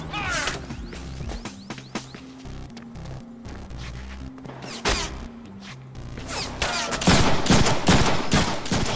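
Gunfire in the Deadpool game, repeated sharp shots and bursts over a rhythmic music track, growing denser and louder toward the end.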